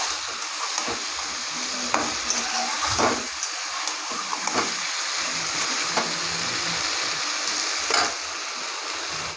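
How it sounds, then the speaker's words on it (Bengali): Mutton sizzling in a pan as it is stir-fried for a potato mutton curry, with a loud continuous frying hiss and repeated scraping strokes of a spoon against the pan. "মাংসটাকে এবার ভালো করে কষাবো"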